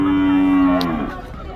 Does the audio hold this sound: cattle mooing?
yes